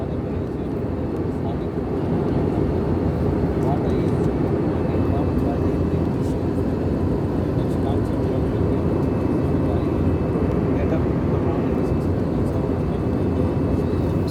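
Steady broadband roar inside the cabin of a passenger airliner descending toward Kathmandu after a bank to the left, a constant low rumble and airflow hiss filling the whole stretch, loud and unchanging.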